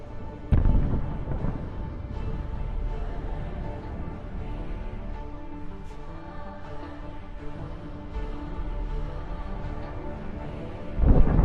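A Ukrainian tank fires from long range on a Russian convoy, a loud blast at the start and another at the end with rumbling battle noise and distant explosions between.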